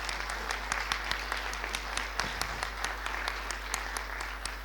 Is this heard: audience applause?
yes